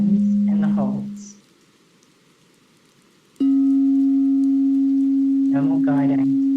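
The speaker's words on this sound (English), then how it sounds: "I'm just going to let you follow the tones and the holds." Steady electronic guide tones pace a breathing exercise, one sustained tone, a silent pause, then a second sustained tone, with a voice speaking briefly over the tones.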